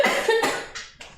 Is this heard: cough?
yes